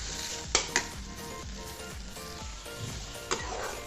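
Taro stalks fry with a soft, continuous sizzle in a pan, punctuated by a few sharp clinks of a utensil against the metal and rhythmic low scraping as they are stirred, close up without talk.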